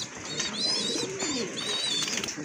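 Satin pigeons at a market give soft, low cooing over a busy, steady background of chirps and crowd noise, continuous through the short stretch.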